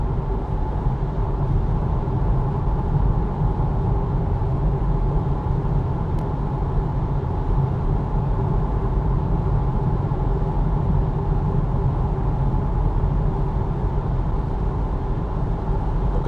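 Cabin of a Polestar 2 Long Range RWD cruising on the highway, filled with an unbroken, loud low roar of road and tyre noise and a faint steady hum that never changes.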